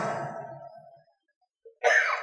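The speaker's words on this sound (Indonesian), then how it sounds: "termasuk batuk ini" A sermon speaker gives a short throaty cough into the microphone, followed by a pause and then a second burst of sound.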